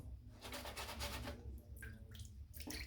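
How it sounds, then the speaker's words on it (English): Water drips and trickles onto a wooden-handled shaving brush in a bathroom, a run of soft splashes and irregular droplets close by with faint background hiss. "Just going to drip water in a little bit more."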